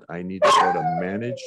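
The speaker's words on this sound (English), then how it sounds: "So sorry for the dog background." A dog barks in the background of a home setting, the short yappy sound mixed under someone talking close by.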